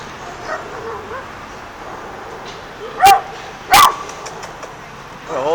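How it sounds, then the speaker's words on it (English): A big dog on a Seattle street gives two sharp, loud barks about a second apart, close by, with quieter yips and background street noise around them. "Oh my God, that's a big dog."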